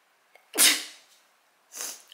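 A loud, sharp human sneeze bursts out close to the microphone indoors, followed a moment later by a second, softer breathy burst, with quiet room tone around them.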